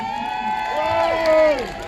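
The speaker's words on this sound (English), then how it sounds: "Give him a big round of applause," Crowd cheering and whooping at a street demonstration in Britain, with sustained shouted voices rising together at close range, loud and brief, with little distinct clapping.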